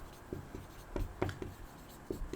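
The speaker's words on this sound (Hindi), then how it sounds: "अब आगे लिखेंगे" Chalk or pen writes on a board during a Class 12 physics lesson on torque on a dipole, giving a series of short, close taps and scratchy strokes in an irregular rhythm, with no talk over them.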